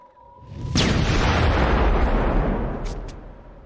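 A cartoon explosion as the Earth is destroyed: a sudden loud boom followed by a long, roaring rumble of debris that holds steady and then fades slowly, with no voices.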